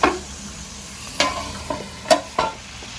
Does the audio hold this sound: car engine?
no